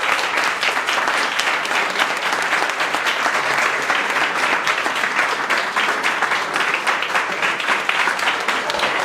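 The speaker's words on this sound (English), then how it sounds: "One more time clap," Many people clapping hands together in steady, dense applause at a trainee gathering, loud and continuous throughout with no break.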